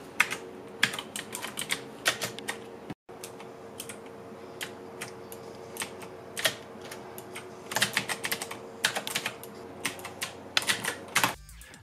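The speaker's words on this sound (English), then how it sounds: "These blue switches are also easily recognizable by their signature audible clicking sound." Typing on a Gamidas Hermes P1 RGB mechanical keyboard with blue switches, a close, fast irregular stream of crisp clicky keystrokes with brief pauses between bursts.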